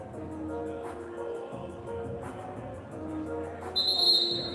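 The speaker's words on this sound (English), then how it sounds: "We have a whistle and we're ready to come out of the timeout." A sharp referee whistle blast at a middle school boys basketball game in a gym, sounding briefly near the end over a steady murmur of crowd noise and chatter.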